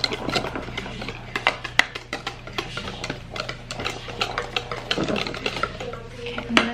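Stirring a mixture in a bowl for cupcake batter, a busy run of scraping and clinking utensil strokes against the bowl that stays close and fairly steady throughout, with a low constant hum beneath and no talking.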